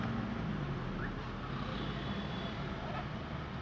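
Steady road traffic in Wayanad, Kerala, a dense, continuous rumble of engines from a queue of vehicles with a faint high whine passing through, fairly close and unbroken.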